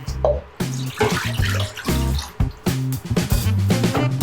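Water poured into a clean cooking pot while preparing catfish nsala soup, a steady gushing splash that fills and gurgles in bursts with brief pauses, close and loud with no talking.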